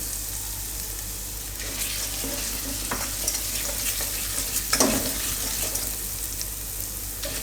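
Garlic sautéing in butter in a pan, a continuous close sizzle with occasional stirring scrapes and a short louder clink partway through, no one speaking.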